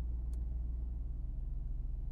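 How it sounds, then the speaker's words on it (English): Low, steady exhaust rumble from a 900 hp 2021 Mercedes-AMG GT63 idling after being turned down from Sport Plus mode, an even droning burble with no revving. "So if I turn it back down, the exhaust is gonna go back down."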